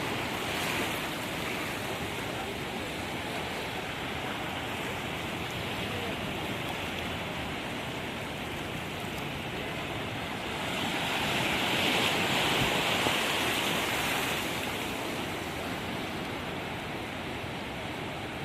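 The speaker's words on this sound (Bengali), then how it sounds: "বৃষ্টি হচ্ছে, বৃষ্টিতে ভিজে যাচ্ছি" Rain falls over the Bay of Bengal with waves around a fishing spot, giving a continuous broad hiss and wash that swells louder for a few seconds partway through, with no talking.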